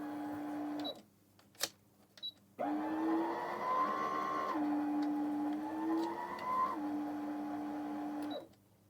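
Brother RS260 sewing machine winding a bobbin: a steady whirring motor hum that runs in two long bursts with slight shifts in pitch, preceded by a few short clicks and ending abruptly.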